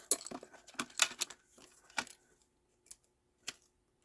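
A dimensional foam adhesive pad is cut in half for a stamped card: a handful of crisp, close snipping clicks bunch together early, then two isolated snips follow after pauses, with no talking.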